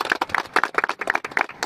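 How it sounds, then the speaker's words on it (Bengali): Crowd applause at the opening ceremony of an inter-ward cricket tournament in Pakundia, honouring the school and college president: short, dense bursts of clapping close by, with no talk over it. "আরো একটা স্যারের জন্য করতালি"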